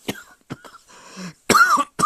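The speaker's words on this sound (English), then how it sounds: "I feel like I got a marijuana cough" A few dry coughs, close and fairly loud, come in short separate bursts with a throat-clearing rasp between them.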